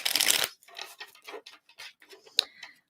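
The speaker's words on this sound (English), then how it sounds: "One more shuffle for Cancer." Tarot cards riffled in a loud burst at the start, followed by a series of softer shuffling flutters and light snaps, close up with no talking.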